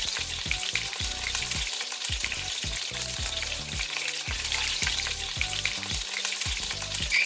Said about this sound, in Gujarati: આખા જીરા અને અજમાનો આપણે અહીં વઘાર કરી દઈશું